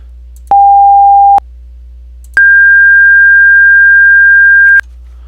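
Two steady pure tones at 1600 hertz: a short lower beep, a pause, then a longer, higher sustained tone, both loud and clean over a faint low hum.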